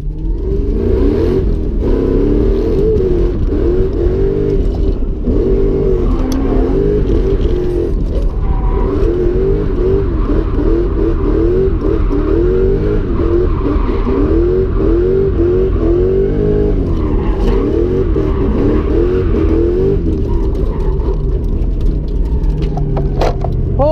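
Car driven with its power steering removed at an import drag racing event, a loud, continuous engine drone with shifting revs and mechanical whir, heard from inside.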